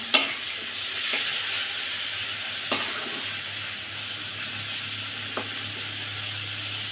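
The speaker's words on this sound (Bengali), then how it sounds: "আস্তে আস্তে জাল কমিয়ে দিয়ে আস্তে আস্তে ভাজিটা করে নেব" Taro stem and jackfruit seed bhaji frying uncovered on a low flame, a steady soft sizzle broken by a few sharp utensil clicks, with a low hum underneath.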